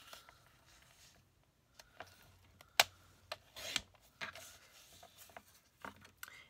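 Cardstock for mason jar tags being cut to size, heard as a few quiet, scattered slicing and rubbing strokes with sharp clicks between them in an otherwise hushed room.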